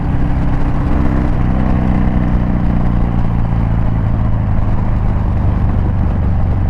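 A Harley-Davidson Dyna with a Thunder Header exhaust runs steadily up close, a loud, dense, continuous engine rumble with a slight pitch change early on.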